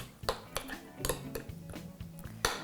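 A utensil stirs Greek-style sauce in a bowl, giving a run of quiet, irregular clinks and scrapes of metal against the dish, close and faint.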